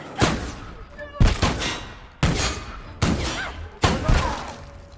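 Shotgun blasts from The Outer Worlds video game boom in five heavy, evenly spaced shots, each loud and close, with a crackling tail that fades before the next.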